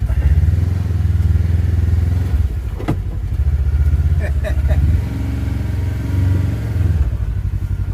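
A Kawasaki Teryx KRX 1000 side-by-side pushing through brush, its engine droning steadily and loud up close with rattles and branch scrapes, while people talk over the ride.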